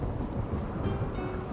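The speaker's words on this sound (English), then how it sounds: "Yep, more lightning storms during a dry spell." Thunderstorm with rain in the video game Rimworld, a brief, soft and steady wash of rainfall with a low rumble of thunder underneath.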